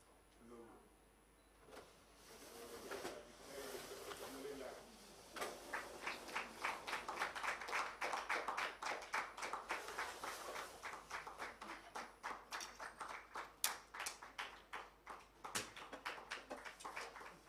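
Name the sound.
audience applause at logo unveiling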